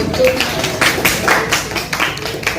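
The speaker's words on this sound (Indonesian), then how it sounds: "Ya, tepuk tangan untuk kita." A classroom of students claps in applause, a fairly close burst of uneven hand claps with spoken voices mixed in.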